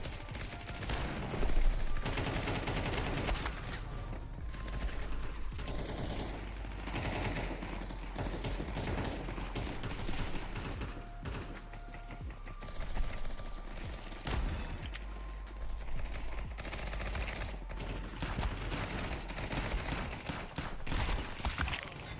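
A gun firing in the video game Counter-Strike, with repeated automatic bursts and single shots across the whole stretch, clicks of mechanisms between them, loud and close with little talk.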